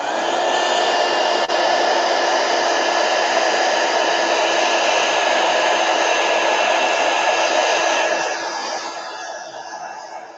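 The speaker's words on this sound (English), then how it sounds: "I'm just going to hit it with a heat gun." A heat gun blows hot air over damp embossed paper, a loud, steady whooshing roar held for about eight seconds before it eases off and fades.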